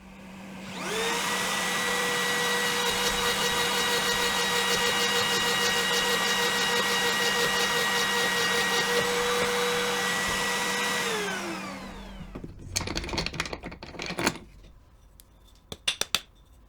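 A homemade DIY domino joiner machine cuts into wood clamped to its table, giving a loud, steady motor whine for about eleven seconds before it stops, followed by a few scattered knocks and clatters.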